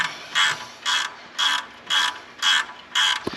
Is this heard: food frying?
no